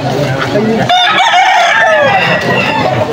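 A young gamecock (stag) crows loudly and close by in one drawn-out cock-a-doodle-doo, right after a short cluck, with faint voices in the background.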